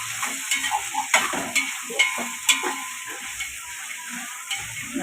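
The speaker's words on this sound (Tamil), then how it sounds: "இப்போ வெங்காயத்தை போட்டுருவோம். வெங்காயம் நல்லா வதங்கணும்." Onions for chicken biryani frying in a pan under a steady sizzle, with a rhythmic series of spatula scrapes and taps as they are stirred, close by and with no talking.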